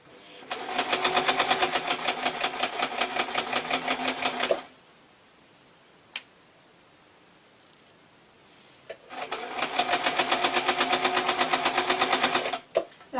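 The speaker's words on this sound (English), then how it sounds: "I'm going to ask my machine to sew politely" Domestic sewing machine running fast on a basic modern model, stitching a French seam on a tee shirt dress, in two sustained whirring bursts of rapid stitches separated by a quiet pause with a couple of small clicks.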